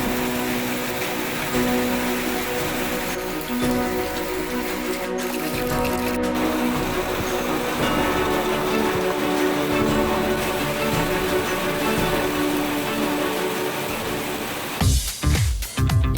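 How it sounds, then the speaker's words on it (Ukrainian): Summer rain falling on greenery in a village, a loud, continuous wash of drops, with a brief knocking or handling noise near the end. "Дощ улітку, ніби якась магія, заспокійлива мелодія дощу, краплинки на зелені та запах свіжості."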